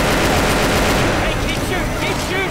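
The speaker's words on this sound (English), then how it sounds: "That's what it looks like when we all shoot him." Survivors shooting a Tank in Left 4 Dead 2 produce a dense, loud, continuous burst of overlapping gunfire that fills the whole moment, with voices mixed into the din.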